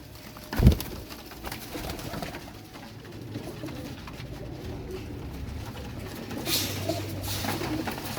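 Pigeons coo softly at a fancier's loft, low murmuring calls that are fairly faint amid a bird-filled background, with a brief thump near the start.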